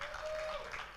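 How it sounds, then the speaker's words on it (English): An audience at a Lagos event claps for a fashion photographer and creative director. The applause is brief and fairly faint, with steady crowd clapping and a faint tone running through it. "Put those hands together."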